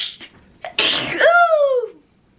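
A single close, loud sneeze: a short sharp intake, then an explosive burst that trails off into a ringing, falling tail, with no talking.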